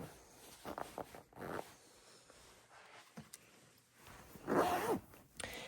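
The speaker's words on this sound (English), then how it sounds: "There's a zipper." Quiet, close zipper pulls on a pillow in short raspy bursts, a few quick tugs early and a longer rasping pull near the end.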